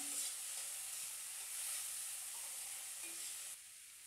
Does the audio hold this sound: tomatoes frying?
yes